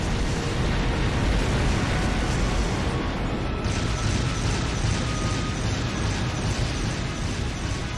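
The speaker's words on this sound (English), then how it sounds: "What's the airship gonna do? Drop bombs? Yep." Bombs dropped from an airship on a fortress battlefield in a role-playing game, a dense, loud, continuous rumble of explosions and crashing debris filling the whole stretch with no letup.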